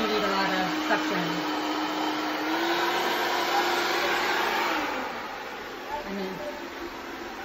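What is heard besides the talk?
360 C50 robot vacuum mop running in quiet mode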